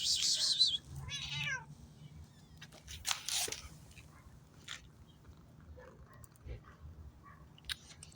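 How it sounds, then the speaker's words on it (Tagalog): A cat meows a few times at close range, with quiet background noise and scattered soft sounds in between. "So balik tayo sa ating pusa."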